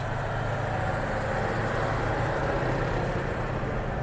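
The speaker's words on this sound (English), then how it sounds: "See how quiet that thing is for the size of that truck?" A steady, low rumble of a large dump truck engine rolling by near Vanderbilt Beach in North Naples, Florida, even and fairly subdued, with no voices.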